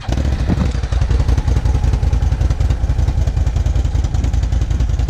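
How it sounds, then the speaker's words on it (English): A Can-Am XMR 1000 mud racing ATV engine runs loud and close, a steady rough mechanical rumble with rapid clattering pulses that holds throughout without pause or talk. "we're gonna turn on the Can-Am, the XMR 1000, the mud racing machine"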